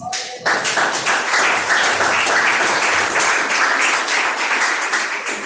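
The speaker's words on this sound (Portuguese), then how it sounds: "Adore o Senhor com as palmas." A church congregation claps together in worship, a dense, steady burst of many hands clapping that starts abruptly and continues for several seconds, with no one speaking.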